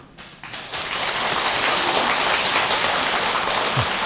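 Audience applause at a temple dharma assembly, a broad sustained roar of clapping that swells in after a brief quieter start and stays loud and steady.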